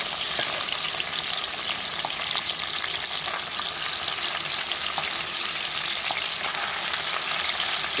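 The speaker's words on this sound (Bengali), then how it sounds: "একটা পিস ভাজা হয়ে গেছে, উল্টে দিচ্ছি।" Pieces of parshe fish fry in hot oil in a pan for a tel jhal curry, a loud, close, continuous crackling sizzle with scattered pops and occasional stirring or turning, no voices.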